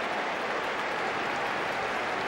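A football crowd at Oakwell gives a minute's applause for a Barnsley fan during a Barnsley v Walsall play-off semi-final, a steady, dense wash of clapping filling the stadium throughout.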